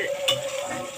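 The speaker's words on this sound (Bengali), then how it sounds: "তো আমি একটু ভালো করে ভেজে নেব।" Grated ginger, cumin seeds and green chillies frying in oil in a pan, a brief close sizzle with a light stirring scrape, heard alone for about a second.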